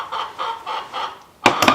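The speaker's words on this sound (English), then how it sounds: "Chicken!" A chicken clucks repeatedly in a steady rhythm, close by, followed by a louder, sharper squawk at the end.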